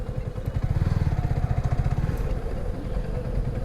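A motorcycle engine runs nearby with a fast, throbbing idle pulse that swells, then settles into a steadier rumble on a road blocked by police.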